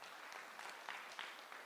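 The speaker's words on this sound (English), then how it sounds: "And let's just clap for them one more time." An audience claps for medal-winning athletes at a formal breakfast gathering, a quiet, distant wash of clapping with a few sharper claps standing out.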